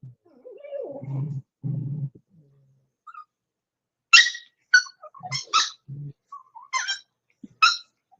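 Young puppies squeak and squall in short, high, broken bursts. Early on come a few lower whines, then later a scattered series of sharp yelps with quiet gaps between them.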